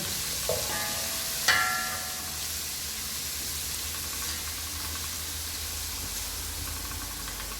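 Onion and garlic fry in a pan for chicken biryani, giving a steady, even sizzle throughout, with a sharp metallic clink from a utensil early on. No one speaks.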